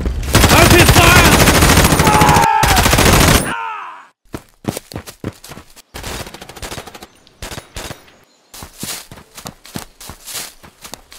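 Gunfire for a toy army men stop-motion scene starts as a dense, loud burst of rapid machine-gun fire lasting a few seconds. A long run of separate sharp shots and clicks follows.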